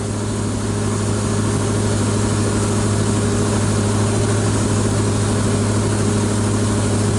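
A Volvo Penta marine engine idles at 1500 RPM with a steady, droning hum and a constant low throb, running close by and unchanging throughout, with no talking.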